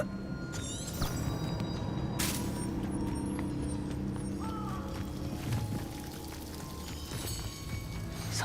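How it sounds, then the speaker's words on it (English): A waterfall in the video game Hogwarts Legacy produces a soft, continuous rush of falling water, fairly faint and steady throughout, with a few brief game chimes and effects over the top. "The waterfall."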